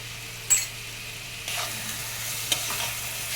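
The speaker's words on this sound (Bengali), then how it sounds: "নাড়াচাড়া করে নিচ্ছি কিছুক্ষণ এটিকে ভাজতে দেবো" Potato and pointed gourd peels frying in a pan with salt and sugar, giving a low, steady sizzle broken by a few brief scraping stirs.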